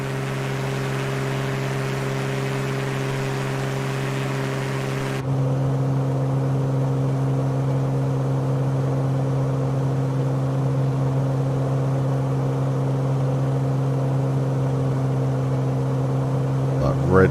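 Aircraft engine held near redline in Microsoft Flight Simulator 2020, a constant loud droning whir with a strong low hum that steps up in intensity partway through and holds steady to the end.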